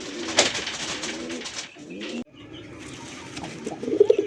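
Pigeons coo in repeated low, throaty phrases close by, with rustling movement and an abrupt break partway through, then more cooing toward the end.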